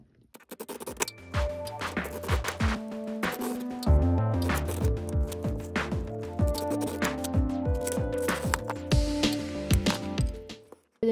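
Glass pieces being hand cut for fused glass gnomes, with repeated close scratchy scoring strokes, sharp clicks and small snaps in an uneven rhythm over several seconds, no talking.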